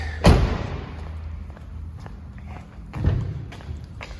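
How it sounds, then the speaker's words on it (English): The hood of a 1994 GMC Suburban SLE K1500 4x4 being popped open, heard as a sharp nearby thud followed by a few light taps and a second duller clunk a few seconds later. "Let's pop the hood."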